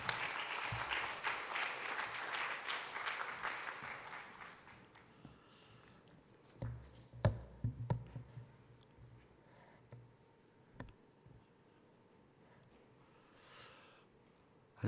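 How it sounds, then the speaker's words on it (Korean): Church congregation applause welcoming a new associate pastor at a youth worship service, moderate clapping for about four seconds that fades out, followed by quiet room sounds, scattered footsteps and a few knocks. "목사님 나오실 때 큰 박수로 환영해 주시면 감사하겠습니다."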